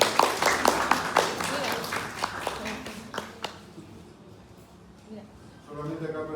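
An audience at a Spanish-language talk gives a short round of applause, scattered claps that taper off over a few seconds, while a speaker's voice carries on over and after them.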